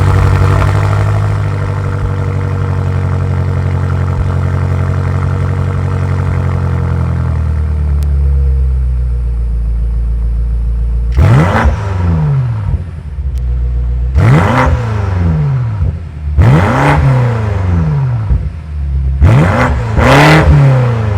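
A 2023 BMW M8 Competition's 4.4-liter twin-turbo V8 idles with a deep, steady rumble, settles lower, then barks through four or five sharp throttle blips in quick succession, loud and close.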